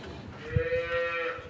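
A dairy cow gives a single short, fairly faint moo over soft background noise.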